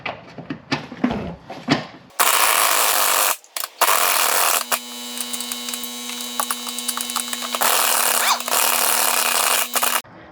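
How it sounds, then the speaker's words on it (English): An impact wrench with an 18mm socket hammers loose the top shock bolt on a Dodge Grand Caravan, loud and close in long continuous bursts, with shorter clatter and handling noise before it. "I got an 18mm socket on the impact."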